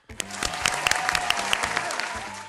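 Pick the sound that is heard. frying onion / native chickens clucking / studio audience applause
studio audience applause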